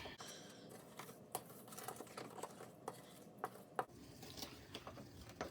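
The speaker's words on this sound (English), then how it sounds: "And then I'm going to mix those around." Dry ingredients with cream of tartar being stirred for homemade Play-Doh, a quiet run of scraping and light tapping clicks at an uneven pace, close and faint.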